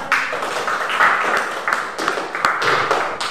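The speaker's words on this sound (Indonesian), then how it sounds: "Tepuk tangan untuk kelompoknya." Students in a classroom clap for a group, a loose, uneven patter of hands with a few sharper individual claps, moderately close and fairly light.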